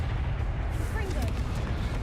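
A Confringo spell explodes in Hogwarts Legacy, a booming, artillery-like blast with rolling rumble that fills the short moment, loud and close amid continuous game noise.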